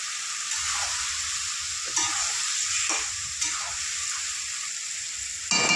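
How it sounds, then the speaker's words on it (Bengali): Spices stir-fried in hot oil for a mrigal fish curry: a steady broadband sizzle with soft scraping stirs at intervals, close and continuous, no talking. "সমস্ত মশলাগুলো একটু কষিয়ে নেব"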